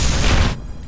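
Rocket turret in the Nuclear Dawn video game fires one loud, close, booming blast that cuts off sharply after about half a second.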